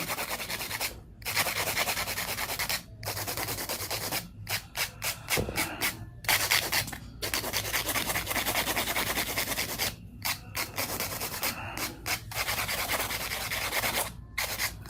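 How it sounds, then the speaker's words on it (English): Rapid rasping strokes of a nail file hand filing acrylic nails, steady back-and-forth rubbing in bursts separated by short pauses, close up and fairly loud. "Now I'm gonna go through and do a little bit of hand filing."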